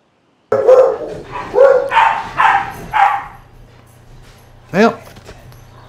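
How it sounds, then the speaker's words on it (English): A dog barks several times in a quick close burst, loud and sharp, then gives one more bark after a short pause, with a faint background hum. "it's pretty easy to cut out dog barking"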